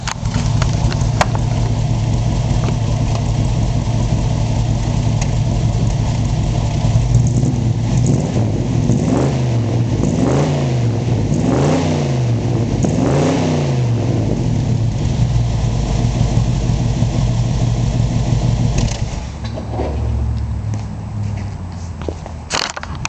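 A 1975 Ford Bronco with an automatic transmission idles with a steady, soft, even engine tone that continues without a break, then eases slightly near the end. Nobody speaks.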